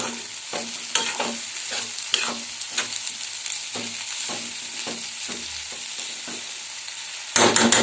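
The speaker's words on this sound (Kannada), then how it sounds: "ಹೆಚ್ಚಿಟ್ಕೊಂಡಿರೋ ಸೊಪ್ಪನ್ನು ಇಲ್ಲಿ ಸೇರಿಸ್ತಾ ಇದ್ದೀನಿ" Chopped dill greens sizzle steadily in a hot pan as a spatula stirs them, giving repeated scraping strokes at an uneven rhythm, close and clear with no talking.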